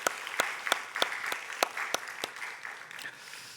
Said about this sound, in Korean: 박수로 하나님의 영광을